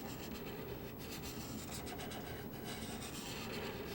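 Marker strokes rubbing and rasping on paper while rendering a grayscale chrome cylindrical faucet, a steady close scratching texture that continues throughout with no talk.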